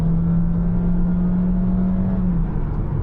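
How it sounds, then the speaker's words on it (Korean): Honda HR-V 2025 facelift engine heard from inside the cabin while driving, a steady low drone with a smooth hum that holds level and dips slightly near the end, with no talking. "그리고 이게 바로 엔진 소리입니다."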